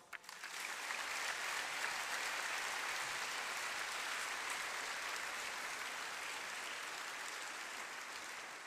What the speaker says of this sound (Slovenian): In prav vsi si tukaj in zdaj zaslužijo pošteni aplavz.